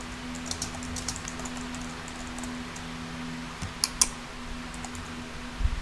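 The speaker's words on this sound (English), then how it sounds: "You type into the box" Fingers tap at a computer keyboard in a quiet room with a steady electrical hum, giving light, irregular bursts of key clicks with a few sharper clacks near the end.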